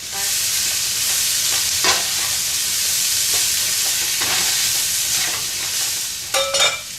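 Beef for a bean-free chili goes back into a hot pan with spices, giving a loud, steady sizzle broken by a few scraping stirs and a brief clatter near the end, with no talking.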